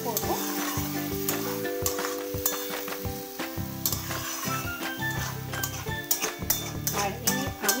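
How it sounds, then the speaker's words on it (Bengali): Aloo posto, potatoes with poppy seed and a splash of water, is stirred in a pan. A soft sizzle and scraping run under prominent background music with clear tonal notes. "ভালো করে নাড়াচাড়া করে নেব।"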